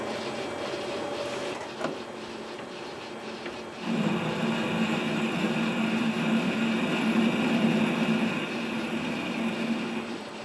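A South Bend lathe cutting a thread with an insert, giving a steady mechanical whir with a constant hum that gets louder partway through and runs on evenly, with no talking.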